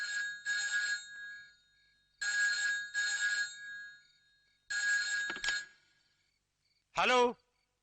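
Telephone ringing after a number is dialed in a Malayalam film scene, three loud double-burst rings with pauses between them, followed by a short sweeping electronic tone.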